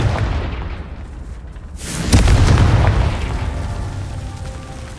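A Confringo fire spell explodes in the video game Hogwarts Legacy, a loud, booming blast that hits about two seconds in and rumbles away over the following seconds after a quieter lead-in.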